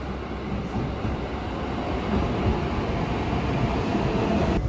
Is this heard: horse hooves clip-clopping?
no